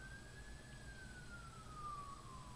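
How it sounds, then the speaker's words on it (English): A faint police siren wails slowly, rising then falling, far off beneath a steady low hum of background noise, picked up by a Creative Live! Cam 4K webcam microphone. "enable some background sounds happening now, which is a police siren"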